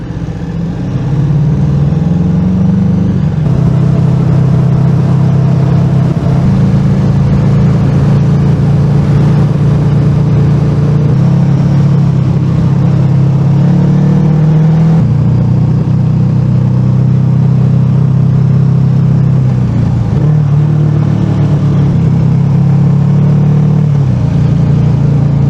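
A vehicle crossing a mountain pass on a European road trip, heard as a loud continuous engine drone from inside the cabin with shifts in pitch as it changes speed and gears, without speech.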